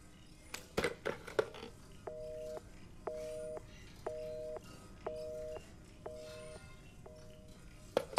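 Telephone in the Resident Evil VII video game giving a repeated busy-signal tone, about seven evenly spaced beeps, faint and alone after a few sharp clicks and knocks.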